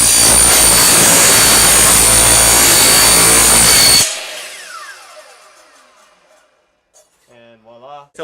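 A power saw cuts through a paddle shaft, a loud harsh buzzing grind for about four seconds that stops and winds down, followed by a brief voice.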